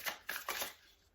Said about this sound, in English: Let's really shuffle these up